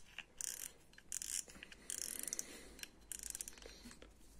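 Someone turns the handle of a Savage Gear SG2 2500 spinning fishing reel. It gives several bursts of close, ticking ratchet and gear clicks with short pauses between them. No one speaks.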